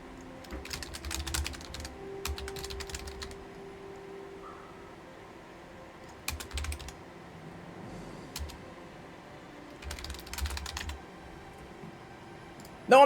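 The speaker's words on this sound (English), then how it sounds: "I was typing to my friend." Someone types on a computer keyboard in quick bursts of clattering keystrokes, separated by quiet pauses. The typing is close, moderately loud, and heard alone without speech.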